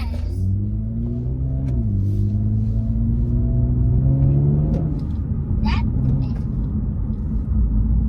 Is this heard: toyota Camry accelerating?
yes